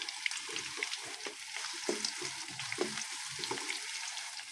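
Garlic and ginger frying with potatoes in a pan give a faint, steady sizzle, broken by a few soft clinks and scrapes of stirring.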